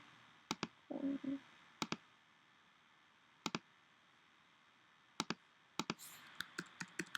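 Sharp mouse clicks while drawing with the pen tool in Adobe Illustrator, coming in scattered single and double clicks at close range over a quiet background, with a brief low hum partway through.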